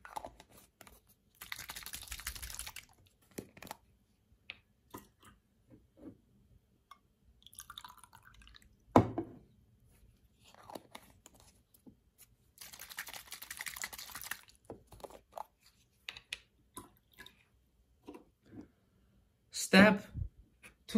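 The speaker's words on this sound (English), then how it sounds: "Rinse the sample vial with sample water twice before each use." Water being swirled and poured in a small sample vial during a HACH iron strip test, heard as brief splashy bursts and drips separated by quiet gaps, close and fairly faint.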